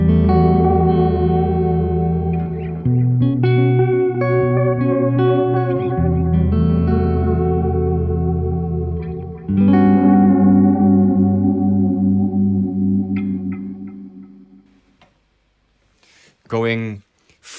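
Sustained guitar notes through a Benson digital delay pedal with sine-wave modulation, a wavering, smoothly modulated echo, chords shifting a few times before fading out.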